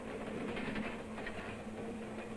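A mail train rolls past on the tracks, a steady broad rumble with a low hum and faint rhythmic clatter, sustained and fairly loud throughout with no voices.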